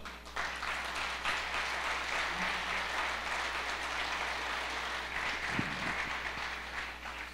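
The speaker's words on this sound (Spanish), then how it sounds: "¿Alguien puede darle un aplauso al Señor?" Church congregation applauding, a steady, broad wash of many hands clapping at moderate distance under a low constant hum, lasting the whole stretch.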